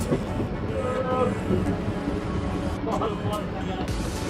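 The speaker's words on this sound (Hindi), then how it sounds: "रक्सौल जंक्शन से निकलते एक ब्यूटीफुल कर्व के साथ हमारी ट्रेन निकलती हुई" A Raxaul–Mehsi MEMU train pulls out of Raxaul Junction on a curve, a steady rumbling drone of the rolling train that continues throughout beneath a voice talking over it.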